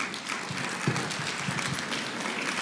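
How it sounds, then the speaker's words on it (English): Applause from an audience at a graduate awards ceremony, a continuous soft wash of clapping heard from a distance at low volume. "We applaud that"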